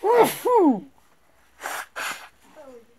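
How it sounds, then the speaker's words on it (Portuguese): Two sneezes and a pair of sharp, breathy snort-like bursts come through loud and close, separated by brief silence, with a faint voiced sound at the end. "Espirro."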